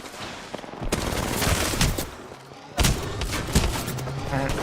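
Rapid video game gunfire rattles in loud, sustained automatic bursts with heavy thuds, briefly dips, then resumes, while voices murmur beneath the shooting.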